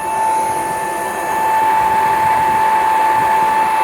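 Air rushes steadily through the opened air gate of a long coal forge, a close and fairly loud continuous roar with a faint whine running through it, and no talk.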